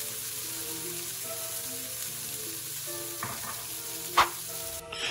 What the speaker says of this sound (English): Now we're going to fry the bacon, like I said, in a pan, a hot pan,